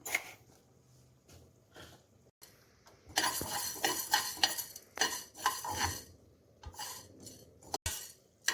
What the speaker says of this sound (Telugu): రెండు స్పూన్లు మెంతులు ఫ్రై చేద్దాం